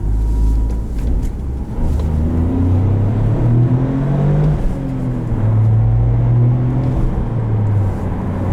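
A 2023 Toyota GR Corolla Morizo Edition engine revs up and down through shifts, with rising and falling engine tones loud and close over continuous cabin drone, no speech.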